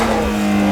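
A supercharged Nissan 370Z at a car meet holds a loud, steady engine rev, its strong low tone sustained through a brief close burst.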